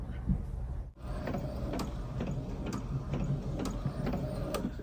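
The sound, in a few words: DTF printer printing transfer paper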